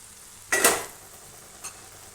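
Dried fish gravy stirred in a pan, one short scraping stir followed by a fainter second scrape over a quiet low simmer, close.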